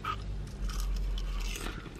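Crunchy bites and chewing on fried fish batter at the Dolphin Restaurant in Sutton on Sea, close and fairly loud, with crisp crackles over a low background rumble and no talking.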